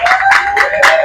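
Concert audience applauding in bursts, with rhythmic clapping swells across a loud, dense room and no voices over it.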